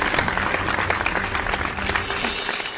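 A crowd at a workplace awards ceremony in India gives a continuous round of dense, even clapping for the ranked winners. It holds at a steady level throughout without any talk.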